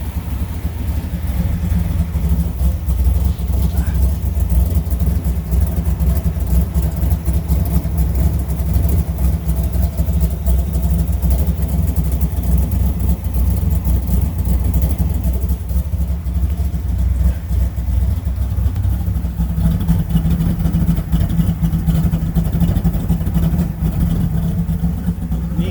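A 1966 Plymouth Satellite convertible with a 426 Hemi runs steadily for the whole stretch, a loud, continuous low engine rumble with a rough, even idle character and no pauses.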